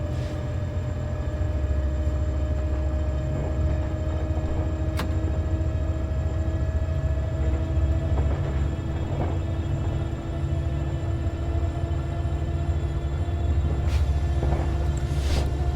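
An LA Metrolink train on the San Bernardino Line in Train Sim World 5 runs at speed with a steady, heavy low rumble and faint humming tones. The sound is constant and loud throughout, and no one speaks.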